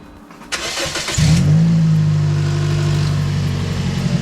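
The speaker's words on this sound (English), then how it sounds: "we're going to start the car" A 2009-13 Toyota Corolla cranks briefly and catches, its engine flaring up loudly before settling into a steady, even idle close by, with no voices.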